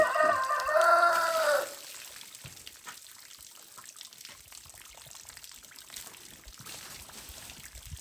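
A chicken crows and clucks loudly for the first second and a half beside a pig being scraped and scalded outdoors, then quieter scraping and splashing noises continue.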